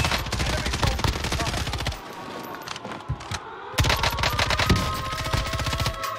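Rapid automatic rifle fire from Kilo141 and M4 guns in Call of Duty rattles loudly in dense bursts, breaking off briefly before resuming in another sustained volley.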